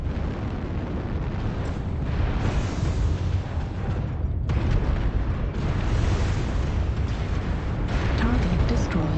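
Artillery strike in the MechWarrior Online game, a continuous heavy rumble of blasts and booms, loud and dense throughout with a brief dip midway, mixed under voice callouts.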